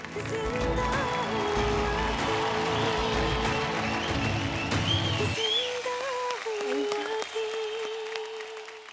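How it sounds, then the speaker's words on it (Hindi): Loud, sustained audience applause on the Indian television talent show India's Best Dramebaaz, with music playing underneath that carries on as the clapping thins out. "जोरदार यार, तालियां।"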